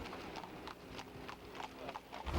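Hooves of a horse pulling a century-old restored fiacre carriage through Vienna, a steady clip-clop rhythm of light hoof strikes, fairly faint and without voices.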